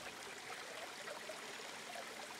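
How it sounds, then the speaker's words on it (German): Water pours from amphorae in the video game Planet Coaster, a soft, steady trickling stream that runs quietly and evenly throughout. "Vor allem mit den Amphoren hier, dass da Wasser rauskommt."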